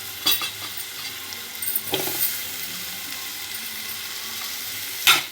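Tomato and brinjal curry sizzling quietly in a pan as drumstick pieces are added and stirred, with a few sharp scraping clinks against a low, steady frying hiss.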